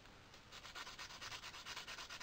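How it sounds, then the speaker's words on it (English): Stainless steel spoon blanks are buffed with 40 to 60 grit abrasive. Quiet, rapid back-and-forth scrubbing strokes repeat in an even rhythm, several per second, growing a little stronger. "buff the outer side with 40 to 60 grit for adhesion of the epoxy"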